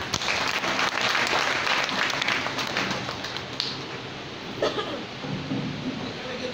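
Church congregation clapping in praise during a worship service, a broad, continuous roar of many hands that swells early and gradually thins, with a few sharper claps near the end.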